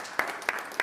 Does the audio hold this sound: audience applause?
yes